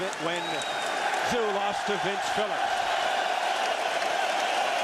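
Boxing arena crowd applauding Kostya Tszyu after his fight with Ricky Hatton, a steady loud wash of clapping and cheering throughout, with a commentator's voice speaking over it.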